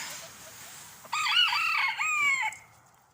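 A small rooster crows loudly at breakfast time for a backyard flock fed soaked grain and chicken feed, a single bold cock-a-doodle-doo of about a second and a half, with faint clucking and quiet yard noise before it.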